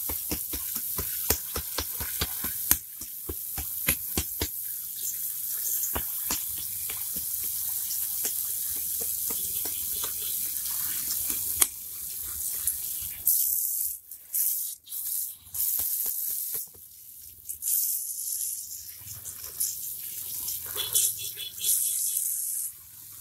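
Water poured generously over a potted fruiting plant in a planter bag, soaking the growing medium, leaves and stems; a steady close hiss and splash of flowing water runs throughout, with brief quieter gaps and a few pauses toward the end.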